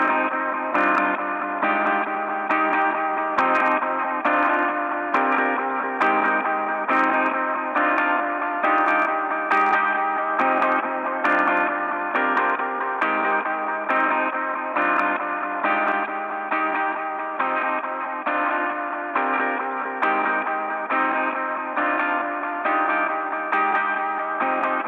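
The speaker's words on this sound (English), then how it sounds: "I just kind of put some distortion on just the top end. And then a little bit of the wobble" Processed music with a gritty distorted top end, a wavering wobble and a reverberant wash, playing steadily throughout with a pulsing beat.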